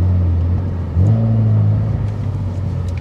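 A BMW M3 E46 CSL's engine drones loud and close, then its pitch steps up around the one-second mark and holds a strong, steady rumbling note with no talk over it.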